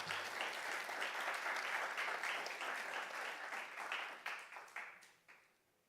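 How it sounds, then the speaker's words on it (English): Audience applause honoring military weather forecasters, a dense sustained clapping from a large crowd that holds steady before thinning into a few scattered final claps and fading out. "I would appreciate it if you all would give a round of applause."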